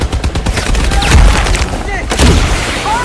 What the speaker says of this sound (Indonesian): Baku tembak-tembak pun terjadi